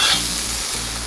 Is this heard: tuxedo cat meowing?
no